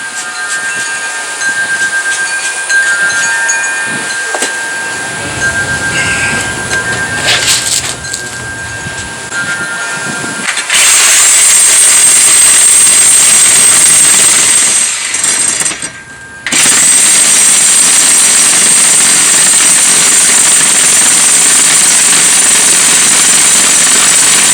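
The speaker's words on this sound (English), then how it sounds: "I'm going to cut these bolts right here" A power tool cuts through bolts on a wooden cable spool that holds a beehive, a loud harsh rattling drone that starts abruptly, cuts out briefly, then resumes and runs steadily to the end.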